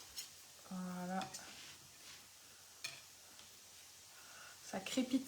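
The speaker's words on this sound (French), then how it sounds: "Ça crépite derrière moi." Faint crackle and sizzle of food frying in a pan at a home cooking setup, with soft clinks of utensils and short bursts of nearby talk over the low background spatter.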